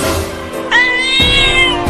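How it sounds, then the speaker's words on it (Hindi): A cat meows once, a clear rising-then-falling call lasting about a second, loud and close over a busy outdoor background in a comic village scene. "अरे ये बिल्ली तो पेड़ पर ही चढ़ने लगी"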